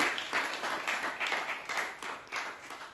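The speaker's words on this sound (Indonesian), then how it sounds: "Tepuk tangan yang meriah untuk" An audience claps after a talk about a writer's journey, producing a soft, somewhat distant patter of many hands in rhythmic waves that gradually taper off, with no talking over it.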